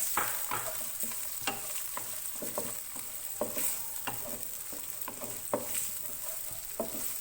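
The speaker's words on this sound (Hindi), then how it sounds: "कटी हुई प्याज डालेंगे इसमें, इसको फ्राई करेंगे।" Chopped onion frying in oil in a pan over a medium flame, a continuous close sizzle with soft scattered crackles and occasional sharper pops or stirring scrapes, with no talking.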